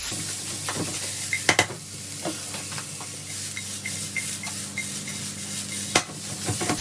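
Garlic frying in oil with broccoli in a pan, a soft steady sizzle under a few sharp clinks and scrapes of a utensil against the pan, with no one speaking.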